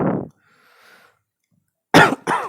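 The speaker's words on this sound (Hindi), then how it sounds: "थोड़ा खांसी है" A short cough at the start, then quiet, followed by two sharp coughs close together near the end.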